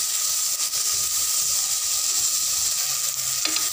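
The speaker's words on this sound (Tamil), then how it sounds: "இப்போ தக்காளியும் நல்லா வதங்கட்டும்." Shallots and tomatoes sautéing hard over a high flame for a chicken gravy, a loud, steady sizzle and hiss close by with occasional stirring scrapes and no voices.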